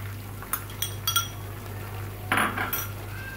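A utensil stirs garlic ginger paste into chana pulao in a pot, making a few sharp metallic clinks and scrapes against the pot over a low steady hum.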